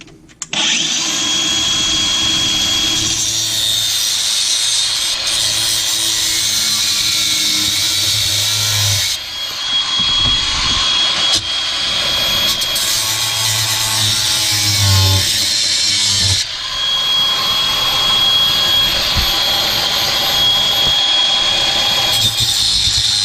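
A hacksaw cuts through a stuck, corroded galvanized pipe with loud, continuous rasping back-and-forth strokes, close and harsh, with a brief pause partway through before the sawing resumes.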